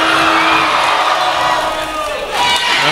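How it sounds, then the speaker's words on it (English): Crowd at a Bellingham Slam vs Vancouver Volcanoes basketball game roaring loudly, with whoops and cheers forming a dense, sustained wall of noise that dips briefly and swells again. "that's the loudest I've heard the crowd all year"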